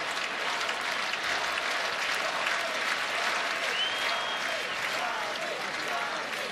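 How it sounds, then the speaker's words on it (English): Ohio State fans in a packed stadium clap and chant during a Nebraska at Ohio State college football game, a broad roar of applause and crowd voices sustained at steady volume. "Clapping and chanting saying Tommy"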